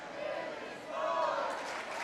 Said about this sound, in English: Team Leclerc is chanting for Billy Smart from the crowd